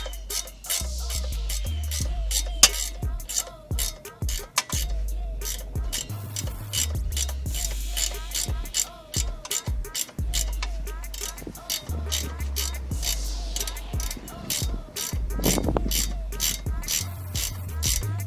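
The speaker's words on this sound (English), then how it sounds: "Ratchet it back in." Ratchet clicking repeatedly as a bolt is tightened on the rear strut of a 1986-1991 Cadillac Seville or Eldorado, close and loud, with bursts of rapid pawl ticks and metallic clanks in a garage setting.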